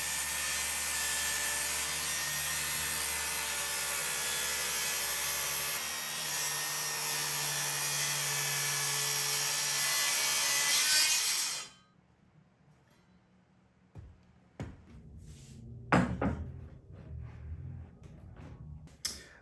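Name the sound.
7 1/4 inch circular saw cutting wood keel stem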